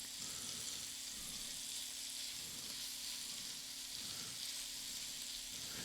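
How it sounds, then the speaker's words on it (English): Onions browning in a pot for elk green chile stew, giving a steady, close, even sizzle with a faint low hum and no talking. "So now we're going to brown the onions."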